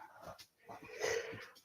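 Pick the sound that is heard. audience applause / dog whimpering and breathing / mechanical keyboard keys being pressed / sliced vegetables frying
dog whimpering and breathing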